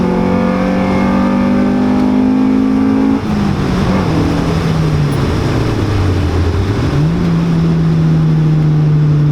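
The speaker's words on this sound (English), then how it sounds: "So what you're hearing is the engine working." A Honda CRX Del Sol with a B16 engine and no exhaust or soundproofing revs hard, a loud raw howl that climbs, drops sharply, sags low and swells again, close up and continuous without talk.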